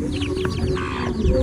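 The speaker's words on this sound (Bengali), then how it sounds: "দেখো কতগুলো ময়ূর পাখির বাচ্চা।" Several peafowl chicks call in short, overlapping chirps and cheeps against a steady low background hum, close by and fairly loud.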